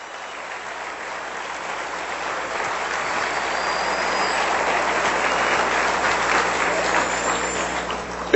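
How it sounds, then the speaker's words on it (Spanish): A church congregation applauds in praise during a Spanish-language sermon, a steady, dense wash of clapping that swells slightly and holds for several seconds with no speech over it. "Le voy a dar un aplauso al Señor todavía."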